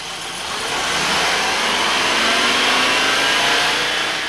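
A car engine with Bosch KE-Jetronic fuel injection runs at high revs, around 4,000, its loud, steady droning roar swelling over the first second and then holding constant, close by and alone.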